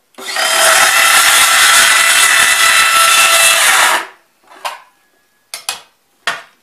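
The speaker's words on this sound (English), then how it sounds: "set your saw blade just so it has minimum penetration, and you can cut it with this" A power saw with its blade set shallow cuts through a plastic bucket, giving a loud, close, steady whining rasp for about four seconds, then a few short bursts of trimming.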